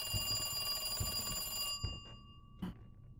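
Ornate rotary telephone ringing in the video game Resident Evil 2 2019, steady bell tones sounding under game ambience that cut off partway, followed by a couple of short knocks or clicks.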